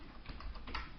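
Computer keyboard typing in a quiet room, a short run of soft clustered keystrokes lasting about a second with no talking.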